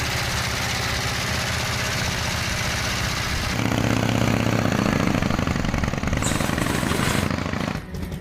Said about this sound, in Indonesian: inilah awal kelahiran mesin 45 derajat Harley Davidson